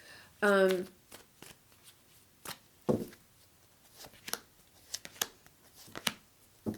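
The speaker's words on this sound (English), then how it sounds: "Let's pull a couple of cards here." A deck of tarot cards is riffled in one quick burst near the start, then lighter card handling and scattered taps follow, fairly close and clear with no talking.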